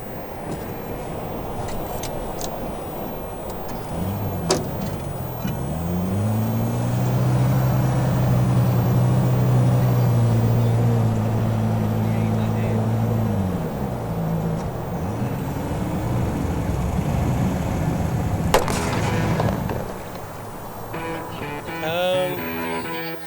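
A boat engine drones steadily, its low hum rising as it revs up mid-clip and then easing off, with faint outdoor sounds around it.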